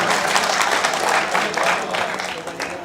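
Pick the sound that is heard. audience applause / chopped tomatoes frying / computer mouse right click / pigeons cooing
audience applause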